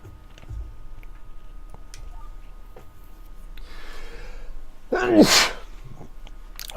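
A single sharp sneeze bursts out near the end, loud and close, following a quiet stretch with a faint breathy rustle, set in the farming video game Björktorps Gård during hay baling.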